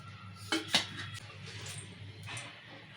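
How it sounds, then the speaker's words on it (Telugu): A metal kadai is set down on a stove with two quick, close clanks, followed by faint rattling against a low kitchen hum. "కడాయి పెట్టుకున్నా ఇప్పుడు నూనె పోసుకుందాం"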